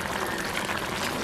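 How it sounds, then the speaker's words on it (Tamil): A pot of ground-spice fish curry boils steadily, giving a brief, close, even bubbling and gurgling wash of liquid noise with no talk. "இப்போ நல்லா தூள் வைக்கலாம் போய் நல்லா கொதிச்சு கொண்டு இருக்குது"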